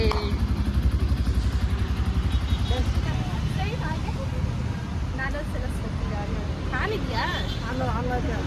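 A new Royal Enfield motorcycle engine runs and revs nearby with a steady rumble, while voices chatter over it.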